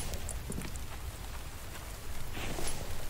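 Steady rain pours down in The Infected, a dense, even hiss of drops on surfaces that runs without a break and swells slightly near the end, with no voices over it.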